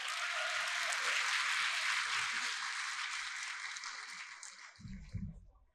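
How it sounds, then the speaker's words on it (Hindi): Audience applause at a mushaira poetry gathering, a broad steady wash of clapping from a crowd that fades out over a few seconds, with a low thump near the end. "अगर आप सबकी भरपूर तालियां होंगी तो ये गजल हो जाएगी।"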